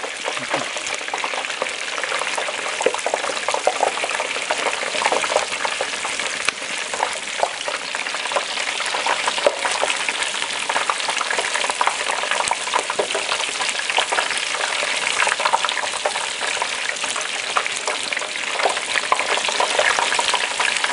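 A whole turkey deep-frying in a pot of hot oil gives off a loud, continuous crackling sizzle, dense with tiny pops and bubbling, which carries on steadily with no voices over it.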